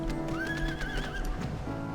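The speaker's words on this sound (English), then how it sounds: "Go, my horse." A horse in the Final Fantasy XIV video game gives a loud, rising and falling whinny over steady clip-clop hoofbeats, close and clear with no talking.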